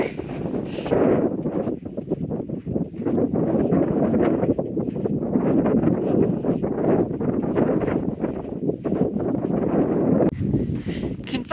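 Strong, steady wind buffets the microphone with a constant low roar and gusty rumble throughout, loud and close, on cold, flat desert ground among Joshua trees in Joshua Tree National Park.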